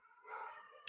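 Dogs howling in the background with sustained, wavering tones that swell in the middle and fade, ending with a brief sharp noise.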